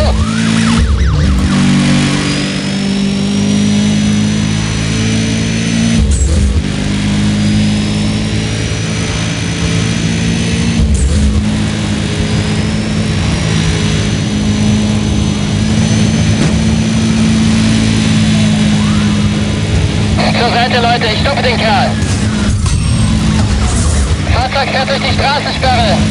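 Engines roar continuously as cars race in a police chase in the Need for Speed World video game, with a loud sustained drone, shifting revs and occasional sharper bursts, while voices talk over it.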